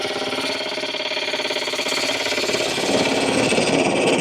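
A wood lathe spinning a chunk of cherry wood held in a chuck, giving a loud, continuous rattling hum with a fast rhythmic throb that grows slightly rougher toward the end.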